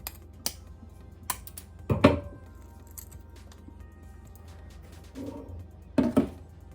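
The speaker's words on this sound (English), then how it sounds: "we're just deshelling the eggs here" Boiled eggs being shelled by hand in a kitchen, with sparse small cracks and taps followed by soft crinkling and peeling sounds, heard close but quiet, and no talking.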